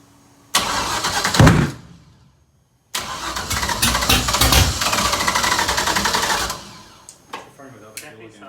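An LS V8 engine swapped into a Scion FRS cranks and fires, with a short burst, a pause, then a longer loud roaring run that fades into a rough idle with sputters.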